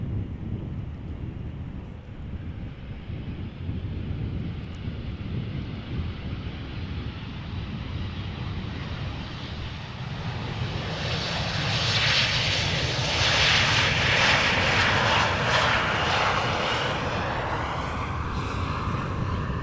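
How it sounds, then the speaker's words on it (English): An airliner lands at Amsterdam Schiphol Airport: a loud jet engine roar with wind rumble, swelling into a hissing whine as the plane passes close. "keep an eye out for the A330 landing simultaneously on this runway after this Embraer"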